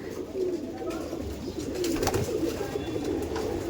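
Racing pigeons coo steadily in a loft at a racer pigeon farm in Kolkata while resting after feeding, with a continuous, moderately loud cooing murmur.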